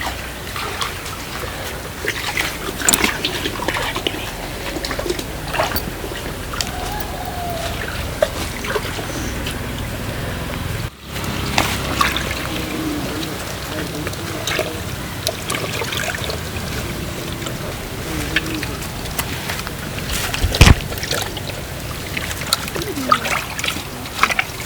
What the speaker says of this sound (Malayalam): ബോട്ടി നമ്മുടെ തണുത്ത വെള്ളത്തിൽ മുക്കിയിട്ട് ഇത് പതുക്കെ അതിങ്ങനെ കണ്ട് കാണിച്ചാൽ പോകുന്നുണ്ടോ